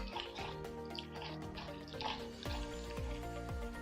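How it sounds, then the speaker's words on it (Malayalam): Grated coconut is squeezed by hand with added water for Kannur-style coconut rice, giving wet squelching and splashing sounds in a bowl, close and fairly quiet, with soft dripping between squeezes. "തേങ്ങയിലേക്ക് ഞാൻ കുറച്ച് വെള്ളം ഒഴിച്ച് ഒന്ന് കൈ കൊണ്ട് നല്ലപോലെ"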